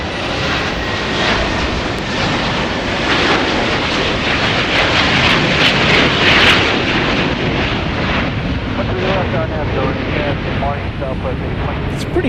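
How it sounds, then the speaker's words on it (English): A Bombardier Global 7500 business jet takes off at Dallas Love Field, its engines roaring loud and steady throughout, while air traffic radio chatter runs underneath. "It's a pretty noisy plane."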